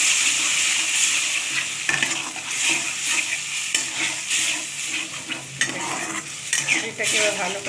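Potatoes being stirred into a spice paste of yogurt, chili, turmeric and salt in a hot pan, with steady close sizzling and repeated scraping of the utensil against the pan, no talk.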